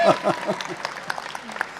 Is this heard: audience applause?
yes